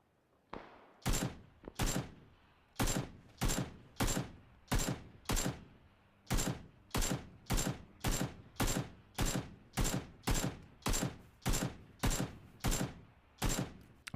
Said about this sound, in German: Irgendwo schießt einer.